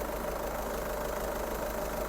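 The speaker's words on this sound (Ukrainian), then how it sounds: "Двигун працює ідеально, ніяких питань немає." A 2011 Volkswagen Golf VI GTD with a 2.0 TDI diesel engine at about 240,000 km idles with a steady, even, low rumble and a faint rattling knock, close and continuous.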